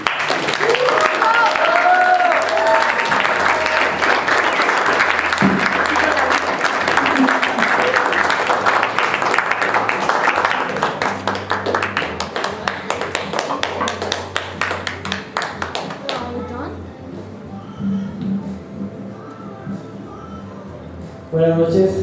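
A large audience applauds loudly and continuously, the clapping thinning out toward the end, with voices and music mixed in underneath.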